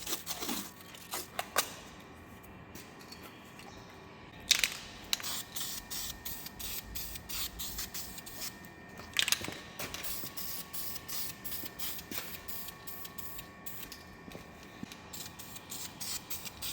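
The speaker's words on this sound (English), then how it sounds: "I'm just going to give it a quick coat of cut yellow paint" Quick bursts of spray paint hiss as cut yellow coating goes onto an exposed weld on a CAT 637 hydraulic cylinder, close and steady, with short pauses and small clicks and rubbing between passes.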